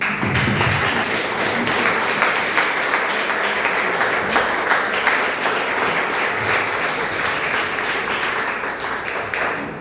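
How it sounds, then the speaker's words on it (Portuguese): A church congregation at a retreat service applauds together, a sustained, dense burst of many hands clapping in a hall that stays loud throughout and fades slightly at the end. "aplaudir o Senhor Jesus mais uma vez"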